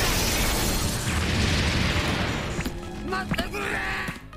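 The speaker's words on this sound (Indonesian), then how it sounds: "Pythagoras pun dihancurkan oleh Snake sampai meledak." An anime explosion from One Piece as a robot is destroyed, a loud sustained roaring blast that decays into scattered debris crashes and rumble, with no talk.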